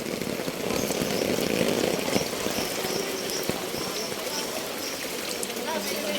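Strong floodwater rushes through a street in Balinggasa, Quezon City, making a steady, dense roar close by while someone talks over it.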